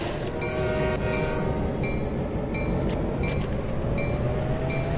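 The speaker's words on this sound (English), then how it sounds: "Gonna need some nice power now, because we've got a full loaded train." A fully loaded ethanol freight train in the Train Sim World game powers up, with a steady, loud rumble of engine and rolling noise and a few brief high tonal blasts layered over it.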